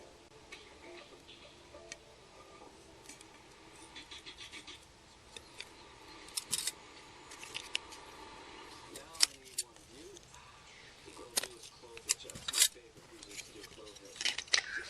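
Scissors cut through a flexible plastic panel for an Audi A4 switch panel, giving quiet, intermittent snips and scrapes that grow more frequent in the second half, with faint breathing-like vocal sounds.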